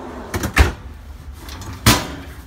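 A pull-out pantry drawer in an Airstream Poulsbo RV kitchen slides and knocks shut, giving a few close wooden thumps and a sharp clunk, with quiet gaps between them and no talking.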